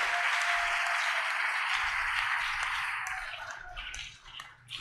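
Audience applause inside a church during a worship service, a dense wash of many hands clapping loudly and steadily, thinning slightly toward the end.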